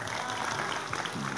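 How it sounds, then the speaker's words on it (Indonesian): An audience applauds at a religious haul commemoration gathering in Ponorogo, a soft, fairly distant patter of many hands with voices faintly mixed underneath. "tepuk tangan untuk Pak Dani"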